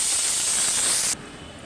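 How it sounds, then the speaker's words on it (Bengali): Fish frying crisply in a hot pan gives a loud, bright, steady hiss that drops away suddenly after about a second, leaving a quieter background. "এই জন্য কড়া করে মাছ ভাজতে দিলাম"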